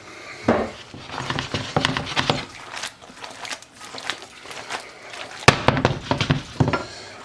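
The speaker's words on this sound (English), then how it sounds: "Give it a couple stirs like that. Get it all incorporated." Pappardelle pasta gets stirred into a morel mushroom cream sauce in a pan, with irregular metallic scrapes, clinks and soft wet knocks of a utensil against cookware, close and moderately loud, coming in uneven bursts.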